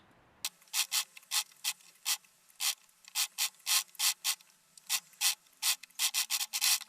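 A sewing machine stitches around a dress in about twenty quick, even bursts of rattling mechanical whir, each separated by a short pause, close and clear with no talking.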